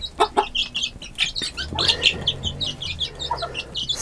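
Hungry young chicks on a village farm cluck and peep in quick, busy bursts, chirps overlapping near and loud throughout.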